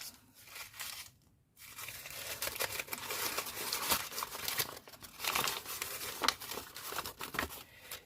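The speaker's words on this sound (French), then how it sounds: "je vais reprendre un papier comme ceci, que je vais froisser" A sheet of paper is crumpled close up for a craft project, a dense run of crackling and crinkling that pauses briefly and then continues steadily, with no talk.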